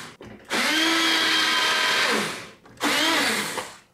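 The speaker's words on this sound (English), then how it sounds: "I'm going to quickly blend up this tomato stuff because it's a bit lumpy" A blender whirs loudly, chopping lumpy tinned tomato sauce made with a veggie stock cube and garlic, in one sustained burst of about two seconds, a brief pause, then a second shorter burst.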